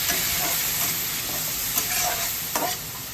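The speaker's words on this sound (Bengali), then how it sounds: "এবার ভালো করে নাড়িয়ে দিচ্ছি" A spoon stirs soybean and potato curry in a pan after water is added, scraping and sloshing in irregular strokes over a soft sizzling simmer, close and fairly quiet.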